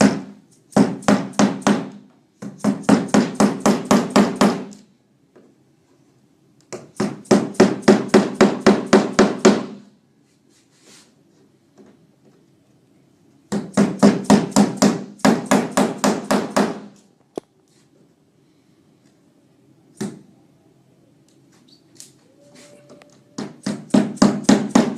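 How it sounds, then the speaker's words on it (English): A hammer drives a chisel into a Florstar floorboard to cut out its center, in several rapid bursts of sharp metallic strikes with short quiet gaps between them and a few isolated taps. "take the chisel and the hammer and to remove the center portion of the floor here"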